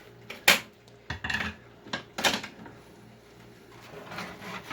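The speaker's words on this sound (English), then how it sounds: "give it a stir so it's all nice and evenly coated" Linguine being stirred into a creamy tomato sauce in a pan, with a few sharp scraping clinks of a utensil against the pan and softer stirring scrapes, close by, with no talking.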